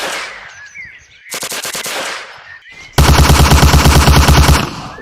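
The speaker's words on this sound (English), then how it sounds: "Now let's switch to the Lanchester submachine gun." Lanchester submachine gun in the Hidden and Dangerous Deluxe video game fires a short automatic burst, then after a brief gap a longer, louder sustained burst with rapid, even rounds, close and loud.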